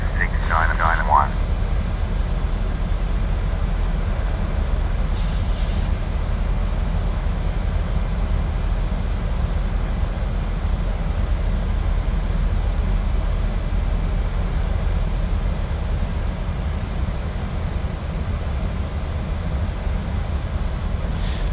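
Ryanair airliner on ILS approach with flaps 10 in Microsoft Flight Simulator, a steady low engine drone and airflow roar continuing for over twenty seconds, with a brief chime near the start.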